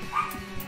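A dog barks in the King of Fighters XIII fighting game, a couple of quick yips heard in a brief, fairly faint burst.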